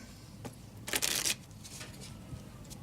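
A deck of playing cards is shuffled in a quick riffle burst lasting about half a second, then small faint card handling and rustles follow against a quiet room background.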